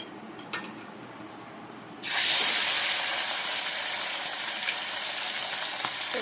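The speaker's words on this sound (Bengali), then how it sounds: "তো মাছটা ভাজা করতে থাকি" Fish is dropped into hot oil and erupts into a loud, bright sizzle that starts abruptly, then settles into a steady, slightly fading hiss of frying.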